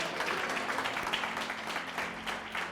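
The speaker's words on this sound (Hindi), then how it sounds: "ताली बजाएं प्रभु" A church congregation claps together in praise, a steady, fairly faint wash of hand claps in a worship hall with no voices standing out.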